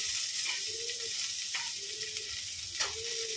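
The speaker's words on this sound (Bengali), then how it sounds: "চলো এটা ভাজা হোক" Food sizzles steadily in a hot pan in a home kitchen, a constant close crackle with a few faint tonal hums on top.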